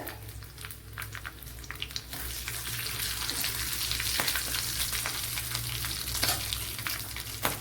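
Mustard seeds and cut dried red chillies sizzle in a spoonful of hot coconut oil as a steady, close frying hiss that grows fuller and louder after a couple of seconds, with no voices.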